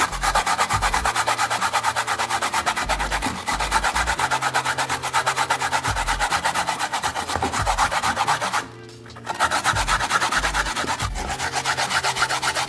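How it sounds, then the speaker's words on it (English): Sweet potato grated by hand on one side of a small hand grater, a steady rasping scrape repeated in quick strokes, close and loud, with one brief pause near the end before the rubbing resumes; no talking. "This is the grater I'm gonna use, and I'm gonna use this side."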